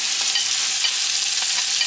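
Chopped onions sauté in hot oil in a pan, a constant bright sizzle heard close up with faint stirring scrapes underneath and no one talking.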